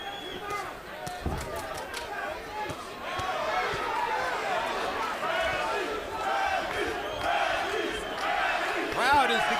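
A boxing arena crowd at a fight between two boxers roars and chants, a loud, swelling mass of voices that builds toward the end, mixed with commentary and thuds from the ring.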